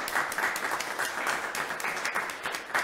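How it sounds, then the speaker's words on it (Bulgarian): An audience applauds a presenter at a discussion and presentation, dense steady clapping from many hands throughout, fairly close and even in loudness. "Нека ръкопляскам отново на Живко,"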